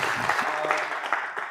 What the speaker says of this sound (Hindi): एक बार तालियां हो जानी चाहिए।